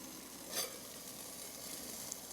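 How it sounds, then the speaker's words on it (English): Water barely boiling on a homemade wick-type alcohol stove gives a faint, steady hiss and soft sizzle, quiet and close, with no speech. "And it's just barely boiling."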